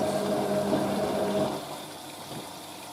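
A 1986 Hotpoint 9530 Electronic 1000 Plus washing machine fills with water during its conditioner rinse, a steady rushing gush with a faint motor tone. The gush drops to a quieter wash about halfway through.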